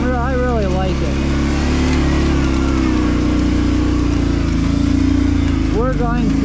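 A Kawasaki Brute Force 650 ATV engine drones steadily while riding over a trail of wet leaves, loud and close throughout, with a person talking briefly at the start and end.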